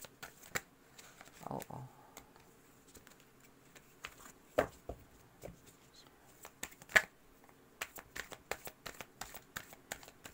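Tarot cards shuffled by hand, with crisp riffling flutters and sharp snapping taps scattered irregularly over ten seconds, close and fairly quiet; a voice briefly exclaims once.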